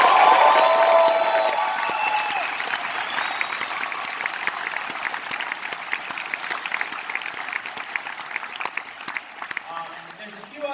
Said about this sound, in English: So let's also applaud for the volunteers